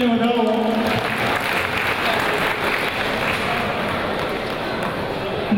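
An audience at a village convention applauds outgoing committee members, a dense, loud, sustained wash of clapping; voices sound over it at the start.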